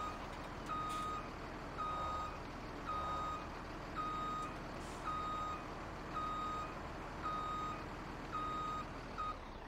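A truck reversing in Farming Simulator 17 gives a steady run of loud electronic backup beeps, about one every second, over a constant low engine rumble.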